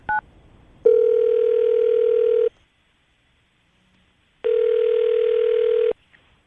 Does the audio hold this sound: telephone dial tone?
yes